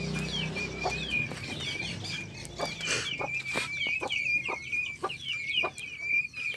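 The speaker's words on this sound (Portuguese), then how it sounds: "o Lai também fez esse chiqueirinho aqui, ó, que tá com a galinha, com os capotinhos" A hen clucks softly in a backyard pen while her guinea fowl chicks keep up a thin, continuous peeping close by.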